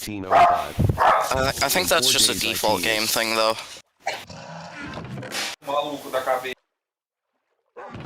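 A pet dog barks in repeated bursts close to the microphone while people talk over it during a Minecraft gaming session, with a brief silence near the end.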